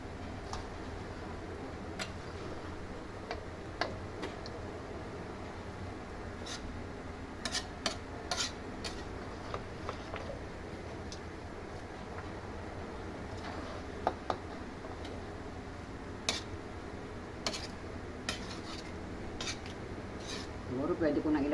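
Shrimp and vegetables sautéing in a pan for Filipino laing, stirred well before the coconut milk goes in: a steady scraping and rubbing of the spoon with scattered small clicks and taps, close and continuous throughout.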